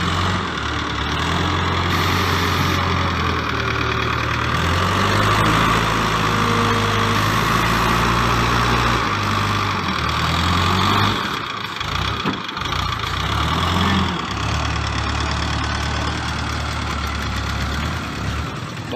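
A Komatsu wheel loader's heavy diesel engine rumbles steadily throughout, idling and revving with a deep knocking chug, loud and close, with no voices.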